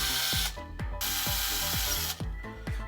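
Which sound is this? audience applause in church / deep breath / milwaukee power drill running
milwaukee power drill running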